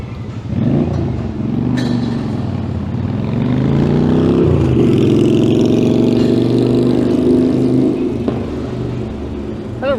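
A loud motorcycle engine revs and rumbles close by on a Toronto street, its pitch rising and holding steady with a throaty roar.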